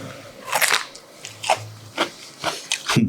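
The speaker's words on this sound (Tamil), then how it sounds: "காயை கட் பண்ணி" A knife cuts through a raw vegetable in a home kitchen, giving about half a dozen short, crisp crunching slices, close and clear with quiet pauses between them.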